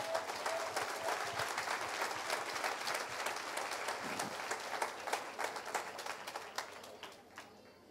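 A church congregation claps together in a dense, rhythmic wave of applause that fades slightly toward the end, with no talking over it.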